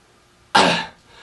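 A single tight, squeezed cough made as a demonstration of compression fry for a false cord scream, short and loud, then a faint breathy tail before silence.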